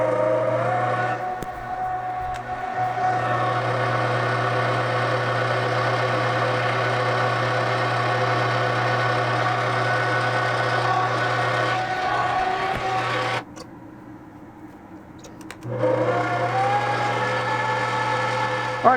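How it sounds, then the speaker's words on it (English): Mini lathe turning a steel workpiece with cutting lubricant, a steady motor whine with a strong low hum and metallic cutting tones running continuously, briefly dropping quieter near the end before resuming. "I am going to be cutting steel, so I'm going to be using some cutting lubricant on this"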